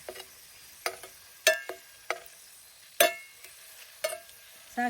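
Green chilies tossed in a pan with ghee, producing sharp intermittent clicks and stirring scrapes roughly every half second over a faint background sizzle, fairly close and fairly quiet.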